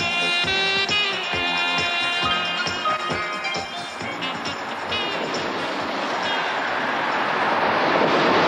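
An Austrian Federal Railways Transalpine train rolls along single track, with rhythmic clicking wheel beats and a tonal hum early on, giving way to rising rushing wind and rail noise, fairly close and without speech.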